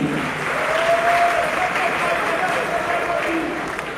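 Audience applause rolls on as a steady, dense wash of clapping throughout, with a faint voice carrying above it.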